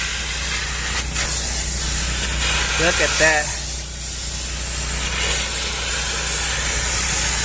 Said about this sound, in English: I also have my heater on, so we got about 200 degrees of steam coming out